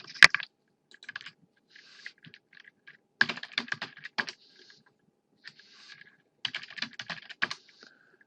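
Light, quick keystrokes on a computer keyboard entering coordinates in AutoCAD, close and quiet, coming in short bursts separated by pauses.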